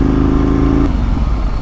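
A Ducati 1098 sport motorcycle's engine roars steadily at high revs, then the pitch drops abruptly as it shifts gear, loud and close from a rider-mounted camera.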